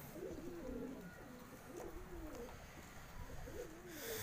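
Fancy pigeons coo repeatedly outdoors in sunny weather, several soft, low rolling calls overlapping at close range over steady background noise, with no talking.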